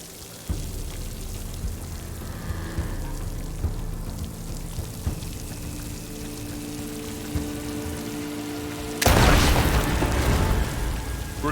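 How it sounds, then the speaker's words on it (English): A loud explosion bursts in Horizon Forbidden West after a stretch of low ambient rumble and scattered thuds, erupting suddenly into a wide, crackling roar that lingers. "I'm going to move a little away from the explosion."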